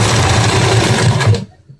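Sewing machine stitching umbrella fabric, a rapid, even mechanical chatter running loud and close for over a second before stopping abruptly into near silence.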